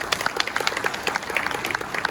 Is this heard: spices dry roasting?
no